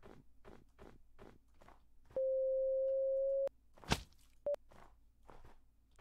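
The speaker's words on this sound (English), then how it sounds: "That's fucking Morse code." Electronic beeps in the Minecraft video game, taken as a Morse code SOS: a long steady tone, then one short beep, following crunchy footsteps and a sharp click.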